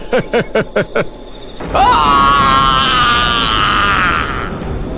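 A police inspector lets out a long, loud, strained scream lasting a few seconds, preceded by a quick series of five short rhythmic grunting bursts; close and dramatic, without any talk.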